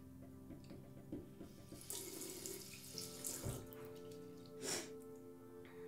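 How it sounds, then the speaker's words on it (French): Water runs from a tap over a pair of hands, with a soft, continuous splashing close by and a few sharper splashes as the hands move through the stream. "je vais vous montrer ce que ça fait quand je rajoute de l'eau"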